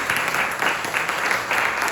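A church congregation claps together in steady rhythmic applause, a dense even patter filling the space.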